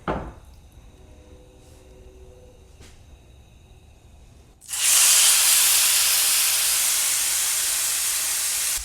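Skirt steak hitting a hot pan on the stove, after a few seconds of faint kitchen hum a sudden loud, steady sizzle bursts in and holds, close and alone.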